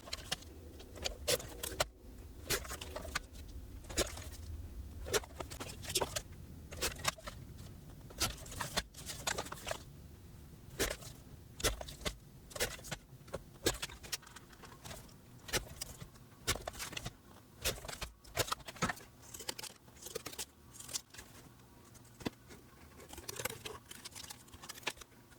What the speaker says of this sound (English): I'm going to get my paper trimmer, or you can use your scissors and go ahead and cut out what I'm using.